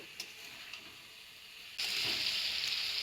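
Mixed vegetables with chopped cauliflower hitting a pan of cooked-down spices: a quiet hiss with a couple of light clicks, then a sudden loud burst of sizzling that continues steadily to the end.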